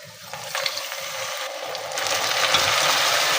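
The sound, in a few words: minced meat (keema) being fried with a little water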